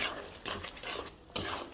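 Dried lotia fish and tomato pieces stirred in a pan over raised heat, giving repeated scraping and clattering strokes with a soft sizzle underneath, close and fairly loud, with no talking.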